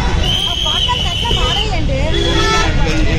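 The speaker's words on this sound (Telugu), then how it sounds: "Circle full traffic." Heavy road traffic jams a circle near Prayagraj during the Maha Kumbh Mela, with car and bus horns honking repeatedly over engine rumble and crowd babble, close and loud.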